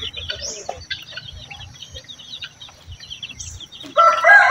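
Native chickens cluck in a rainy-season coop, with scattered clucks throughout and a loud, close rooster crow bursting in near the end.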